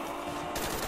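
Rapid gunfire from the Mango Zombies video game rips out as one short, dense burst of shots under a sudden, sharp rise in loudness.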